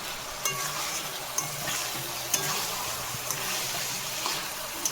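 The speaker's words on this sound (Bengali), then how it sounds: "আর একটু মাছ হচ্ছে এদিকে।" Fish fries in a pan with a steady close sizzle and crackle, broken by a few light clicks of a utensil stirring.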